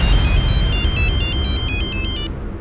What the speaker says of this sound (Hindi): सर मैंने उसके पति सुधीर बाली को फोन भी किया था।